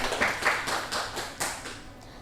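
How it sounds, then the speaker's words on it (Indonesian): A short burst of clapping during a group class presentation, several quick claps in a loose rhythm, fairly close and fading out. "Tepuk tangan."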